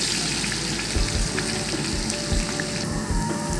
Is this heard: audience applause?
no